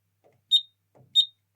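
Two short, high electronic beeps from the buzzer of a Kentec Syncro addressable fire alarm panel, one for each button press, spaced about half a second apart, with faint clicks between them and nothing else around.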